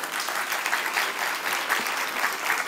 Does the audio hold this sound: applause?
yes